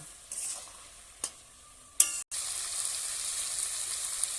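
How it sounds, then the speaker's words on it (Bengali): Ground ginger and cumin paste stirred in a pan for a village-style small fish curry, steady sizzle with a few sharp scrapes of the spatula against the pan, close and alone. "ভালোভাবে নেড়ে চেড়ে নেব"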